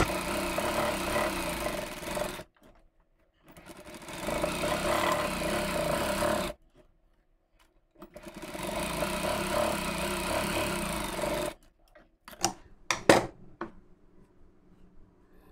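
A sewing machine runs in long bursts while stitching triple seams on a blouse, with steady mechanical whirring that stops and restarts in pauses, then a few short, sharp clicks and taps near the end.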